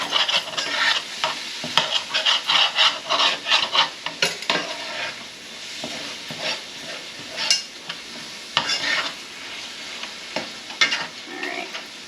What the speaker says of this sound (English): all of your drippings at the bottom of the pan or the pot, you want to just scrape them up.